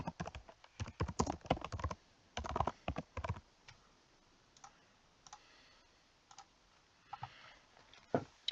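Quick bursts of clicking keystrokes on a computer keyboard, close and fairly quiet, with pauses between flurries and scattered single taps toward the end.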